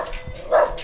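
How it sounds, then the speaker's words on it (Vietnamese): A female dog gives a single short bark, close and fairly loud, with faint rural background around it. "con chó cái sủa quá"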